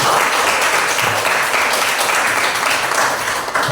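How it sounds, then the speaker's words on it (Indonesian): Applause from a class during a mathematics lesson, a dense, steady wash of clapping lasting a few seconds with no talk. "tepuk tangan untuk kita"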